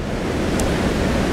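Strong wind blowing outdoors, a continuous loud broadband rush buffeting the microphone with no breaks.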